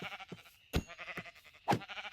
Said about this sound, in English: I feel so bad killing these sheep because I know I'm gonna need them